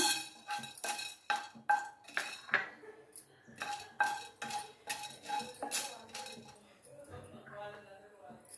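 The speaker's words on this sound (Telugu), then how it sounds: "ఒక చెంచా నూనె ఫస్ట్ మిరియాలు వేసుకుంటున్నాను" Peppercorns go into a spoonful of oil in a pan, heard as a run of bright metallic clinks and taps of a spoon against cookware, irregular and close, with a voice talking in places.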